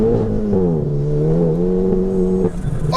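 A 620bhp front-wheel-drive Golf GTI Clubsport with fully forged internals holds a loud, close, sustained engine roar at launch, the revs wavering slightly as the front wheels spin, with a brief dip near the end.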